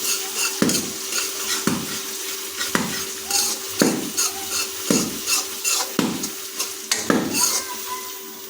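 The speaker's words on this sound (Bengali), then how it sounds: "কড়াইতে আদা রসুন বাটা যোগ করছি তাই একটু কিছুক্ষণ এটাকে নাড়িয়ে নেবো ভালোভাবে খুন্তি দিয়ে নাড়িয়ে নেবো" A spatula scraping and stirring ginger-garlic paste in a sizzling wok, with about eight sharp, regular strokes roughly a second apart over a steady frying hiss.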